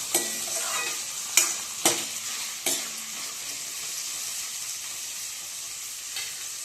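Tomatoes frying in oil give a steady, bright sizzling hiss, broken early by a few sharp crackles and pops as they hit the pan, then settling into even frying, close with no voices.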